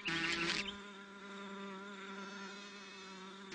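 Asian hornets fighting in flight, their buzzing wings giving a steady whining drone with a louder, busier burst at the start, heard close with no voices.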